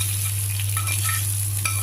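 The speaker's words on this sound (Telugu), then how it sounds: "వేయించిన పోపుని పులుసులోకి ట్రాన్స్ఫర్ చేసుకోవాలి" Steady oil sizzle and crackle as hot tempering with asafoetida is poured into a moong dal and mango stew, with a brief sharper burst of spattering near the end; no voices.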